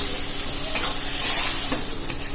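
Masala spices for rajma sizzle and crackle loudly in hot oil, a continuous frying hiss with occasional stirring scrapes, close up and with no talking.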